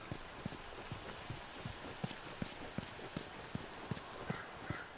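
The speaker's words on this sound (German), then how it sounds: "Kommst du mit dem Pferd hinterher?" A horse walks in The Last of Us with steady, evenly spaced hoof clops on hard ground, fairly close, over a quiet ambient background with no talk.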